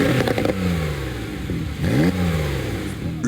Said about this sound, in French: Le vrombissement des moteurs comme une mélodieuse symphonie aux oreilles de ces passionnés